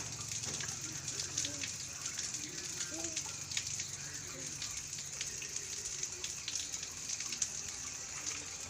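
Tap water runs steadily and splashes at close range while a small child washes glasses, bowls and a baby bottle, with scattered clinks and quiet voices talking throughout.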